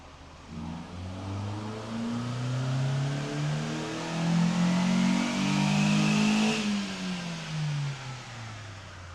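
A Chevy Sonic fitted with a DIY leaf blower supercharger revs up, its engine climbing in pitch and then dropping back down, loud and steady in a close recording with no talking.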